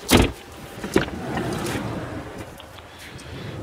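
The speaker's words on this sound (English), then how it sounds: "Electric windows, electric mirrors." Electric windows on a 2015 Mercedes Vito 116 Sport crew cab van, a brief motor whir with a couple of sharp thumps as the glass moves, close, followed by quieter interior hum.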